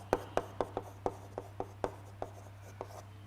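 Chalk or marker strokes tap and scratch on a board during a biology lecture, about a dozen short, crisp clicks in an uneven rhythm over a steady low electrical hum, with no talking.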